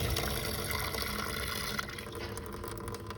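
Water pumped by an Aermotor windmill through a 1.5 inch pipe gushes and splashes steadily in light wind, a continuous close pouring rush with faint drips.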